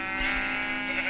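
A sheep in Minecraft gives one sustained, wavering bleat, loud and close, with no talking over it.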